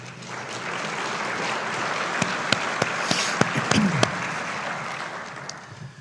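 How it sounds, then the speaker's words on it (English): A lecture audience at the Lamont-Rhodes Lecture Series gives a round of applause for the Lamont-Rhodes families, a dense, sustained wash of clapping with a few sharper claps standing out near the middle before it fades toward the end. "give them a round of applause, please"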